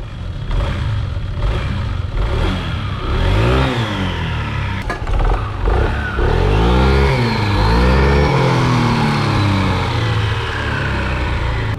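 Honda ADV 160 scooter engine, fitted with racing parts, revving hard through repeated rising and falling sweeps, loud and close, climbing to sustained high revs near the end.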